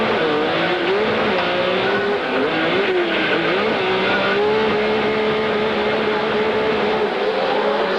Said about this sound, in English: You got a great sound of that motor